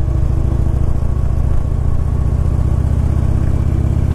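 A Road King motorcycle engine runs steadily on a test drive, a loud, close, even drone with a deep pulsing rumble and no talking.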